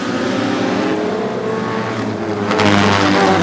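Several short track race cars at a Super Short Track Racing Series event roar away together at the green flag, a loud, dense engine drone that swells louder toward the end.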